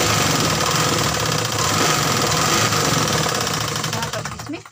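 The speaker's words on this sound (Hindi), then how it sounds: "यहाँ पर इसमें डबल सिलाई कर देंगे इस तरह से" A sewing machine running steadily as it stitches a dart into suit fabric, a loud continuous mechanical whir that slows and stops near the end.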